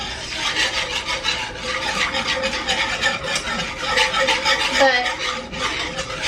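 A metal utensil scrapes and rasps against a pan while milk is stirred into chicken gravy, a continuous close scratching with steady rhythmic strokes and a brief spoken word.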